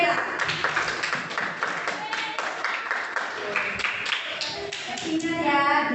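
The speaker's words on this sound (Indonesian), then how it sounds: "Tepuk tangan dulu buat si Kela" Students in a classroom clap for a classmate, a lively burst of many hands with voices mixed in.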